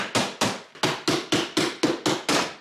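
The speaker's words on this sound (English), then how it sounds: "the easiest way I've found to pry these apart so far has been with a chisel" A chisel is driven into the case of a ReliBatt 12V 100Ah self-heating LiFePO4 battery to pry it apart, giving nine sharp, close knocks in a steady rhythm, each ringing briefly before the next.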